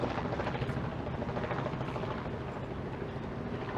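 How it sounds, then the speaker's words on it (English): A helicopter flies over a Toronto waterfront during a storm, a steady dense rotor rumble and chop that holds at a moderate level with no talk. "There's a helicopter."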